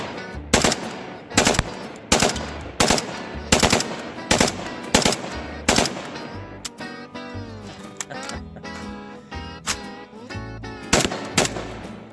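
A Marcolmar CETME L rifle fires a full magazine in sharp, loud shots, spaced and rhythmic at first, then closer together in quick bumps, with ringing and clatter between shots.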